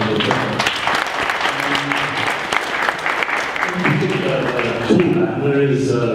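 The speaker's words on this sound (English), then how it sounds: "Maybe we can give them another round of applause to Carin," Book launch audience applauding the authors, sustained clapping from a seated crowd with a faint voice surfacing near the end.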